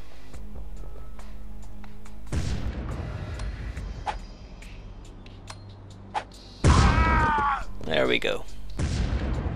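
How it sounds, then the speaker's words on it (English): Hand grenades exploding in the video game Chaser, two or three heavy booms bursting out of quieter gameplay noise, with someone talking briefly between the blasts. "What it does mean, however, is that I finally get some satisfying use out of the hand grenades."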